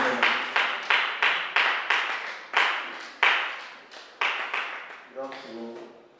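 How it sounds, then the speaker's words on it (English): Audience at a stage event claps in a series of sharp, synchronized bursts, each ringing briefly in a reverberant hall, with a voice starting at the end. "the faster, the louder your clap, the better it comes on stage"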